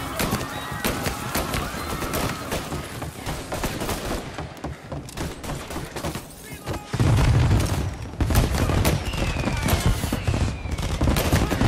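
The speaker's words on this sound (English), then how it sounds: "And now for the fireworks," Fireworks going off in the video game Mafia Definitive Edition, a dense barrage of sharp cracks and booms in rapid succession that grows louder and heavier partway through, with whistling streaks overhead.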